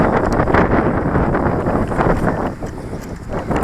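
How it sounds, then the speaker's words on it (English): Steady, rough wind buffets a microphone outdoors, roaring and gusting without a break. "A little bit windy today"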